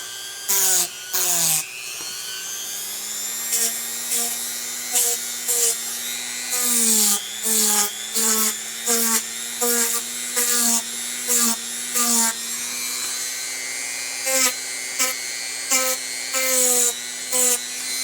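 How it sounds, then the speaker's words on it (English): A Dremel rotary tool with a rounding bit whines in repeated short, high-pitched bursts as it softens the hard edges of foam, the motor pitch dipping under load, close and fairly quiet. "The hard edges I'm going to Dremel, and all I'm going to do is take that rounder tool and we're going to soften it up."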